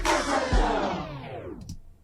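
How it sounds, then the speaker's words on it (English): A rendered clip of a Lil Jon radio edit with a slowdown effect applied, the dense sound sagging downward in pitch and fading over about two seconds before a brief tail. "All right, so that's what the slowdown effect would be."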